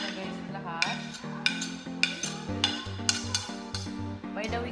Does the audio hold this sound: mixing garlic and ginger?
yes